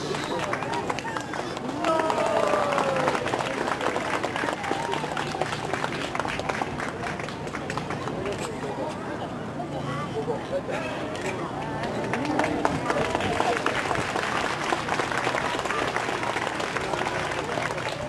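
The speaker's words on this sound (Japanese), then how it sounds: "多くの拍手ありがとうございました" An audience at the Kawagoe spring festival applauds a performance by the fire-brigade guild, with its chants, standards and ladder stunts: dense, sustained clapping from a crowd, swelling slightly at times, with an announcer talking over it.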